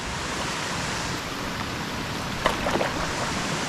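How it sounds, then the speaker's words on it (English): A 50-foot waterfall on the Bluestone River gives a steady, loud broadband roar of falling water that fills the whole clip evenly, with a few brief splashy bursts near the end and no talking. "They say the 50-foot pretty waterfall is one from Bearclaw."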